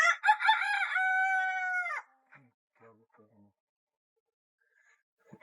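A KUB rooster crows once, loud and close, a drawn-out two-second call, followed by a few soft clucks and quiet farmyard sounds.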